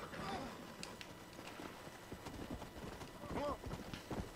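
Galloping horse hooves in the video game Red Dead Redemption: Undead Nightmare, set in the Wild West countryside, a quiet repeating clip-clop under background game sounds with a brief whinny-like call.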